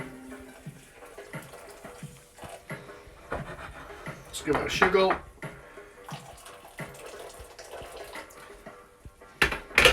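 Boiling water pours from a kettle onto gluten-free couscous, a running, splashing pour with intermittent surges, heard under talk nearby.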